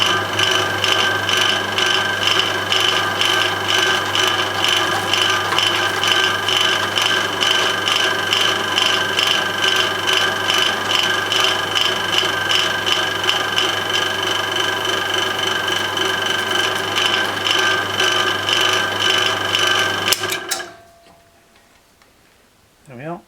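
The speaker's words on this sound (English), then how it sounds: "Then gradually bring the crimping head down about at least 1/8 of an inch to turn over the crimp" Roll crimping a black powder shotshell with a crimping head gives a steady, close mechanical rasp and rhythmic ticking for about twenty seconds, then stops abruptly into near silence.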